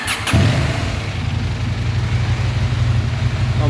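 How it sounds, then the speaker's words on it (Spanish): A motorcycle engine cranked and fired up during an ignition diagnosis in a workshop, a short starter burst then a steady, loud idle rumble that carries on alone to the end. "Vamos a darle marcha."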